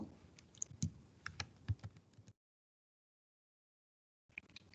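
Fingers type on a computer keyboard while editing a code parameter, producing quick irregular key clicks close to the microphone, then a two-second silence before a short fresh burst of keystrokes.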